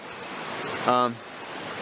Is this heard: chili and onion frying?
no